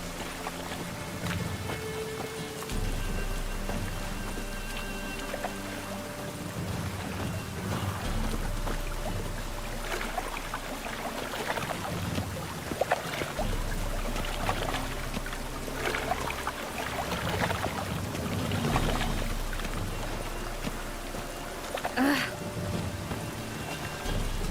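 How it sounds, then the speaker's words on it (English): Steady rain falls throughout a rainy scene in the video game The Witcher 3, a continuous even patter with low rumbling undertones, heard alone without talk. "Rain, I like rain."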